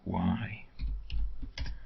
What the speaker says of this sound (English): I always look at the keyboard, I don't know how to type very well.